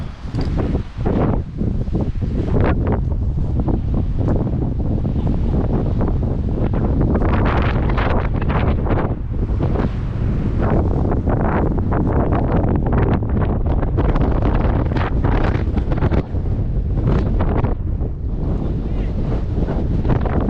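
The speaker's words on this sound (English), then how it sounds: "I can't hear you over the wind." Strong wind batters the microphone on a rocky outcrop in Black Rock Forest, New York, a loud, constant roaring buffet that surges and eases for the whole span, with speech faintly present beneath it.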